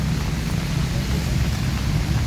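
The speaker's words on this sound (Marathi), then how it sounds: "आज पाऊस कमी आहे जरासा." Rain falls during the monsoon season as a steady, dense hiss of drops with no breaks, moderately loud and fairly close, with no voices over it.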